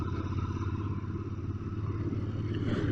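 A Royal Enfield Interceptor 650 engine drones steadily while riding in too low a gear, a constant low thrum heard from the bike itself with no talk.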